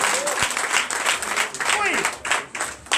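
A church congregation at a Sunday service in Bénin claps and applauds in a dense, continuous burst, loud and close, with excited voices and shouts mixed in.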